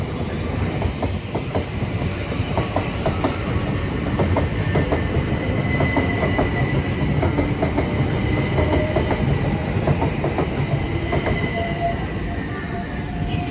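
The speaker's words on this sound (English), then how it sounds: "As 377 472 arrives in, bound for West Croydon from London Victoria" A Class 377 electric multiple unit pulls into Clapham Junction, its wheels clicking rhythmically over rail joints beneath a continuous rumble, loud and close throughout.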